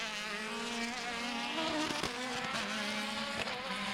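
Formula BOSS race car at Mondello Park in Ireland, its engine a loud, steady buzzing drone with shifting harmonic pitch, briefly swelling as it passes close by.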